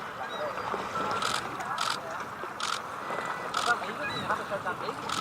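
A camera shutter fires rapid bursts of sharp mechanical clicks at 12 frames per second, a few separate bursts over faint outdoor ambience.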